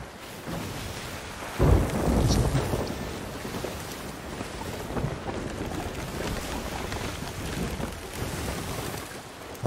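Thunderstorm at sea in the pirate game Sea of Thieves: a loud thunder crack near the start rolls into steady, heavy rain drumming throughout, with rumbling low swells and no voices.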